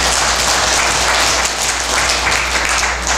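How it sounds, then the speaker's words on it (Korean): Steady, loud applause from a lecture audience welcoming a speaker fills the whole stretch, a dense, even wash of clapping without pause. "박수로 환영해 주십시오."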